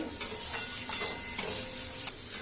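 Vegetables stirred in a pan with a pinch of turmeric and salt while making data posto, soft scraping strokes recurring every half second or so over a low frying sizzle, close and fairly quiet.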